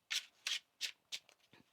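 Tarot cards being shuffled by hand: four crisp riffling bursts at an even pace, then a couple of softer taps as the deck settles, close and quiet with no talking.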